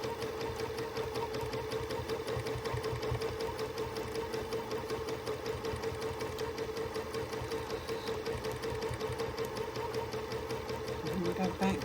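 Sewing machine doing free motion quilting on a quilt: a steady, rapid mechanical stitching chatter running continuously at close range, with a quiet voice talking over it.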